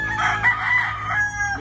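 Chickens crow and cluck close by in a continuous, busy stretch of overlapping calls with no pauses.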